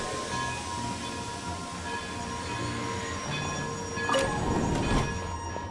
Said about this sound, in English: Now, start the train to Snezhnaya.